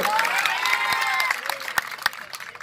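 Crowd clapping at a Hindi-language political rally, scattered sharp claps under a loud amplified voice that shouts over them, the clapping growing more distinct toward the end.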